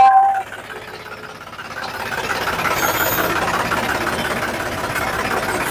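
A second-hand tractor engine runs its hydraulic system, holding a steady, loud, rough mechanical drone after a brief quieter start.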